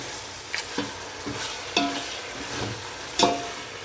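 Chicken pieces for white chicken pulao are stirred in a pot, with a spoon scraping in uneven strokes over a gentle steady sizzle, near and without talk.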